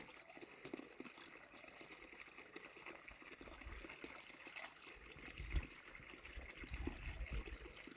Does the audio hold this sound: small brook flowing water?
yes